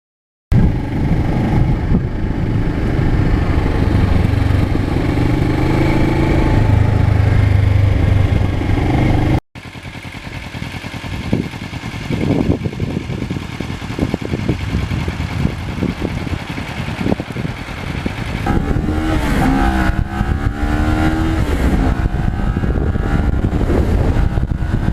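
A 2009 Kawasaki Ninja 650R motorcycle is ridden along back roads, its engine droning steadily under heavy wind rush, with a brief cut partway and rising and falling revs later.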